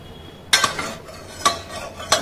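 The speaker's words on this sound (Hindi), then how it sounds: "गैस निकल चुकी है कुकर को खोल लेंगे" Three sharp metallic clinks of utensils against a pressure cooker ring out at uneven intervals as it is opened, close by, with quiet between them.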